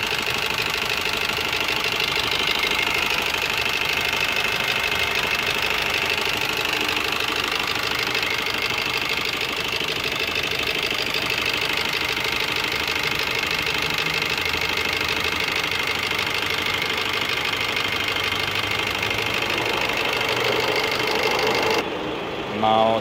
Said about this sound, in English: This is the original sound of a diesel engine.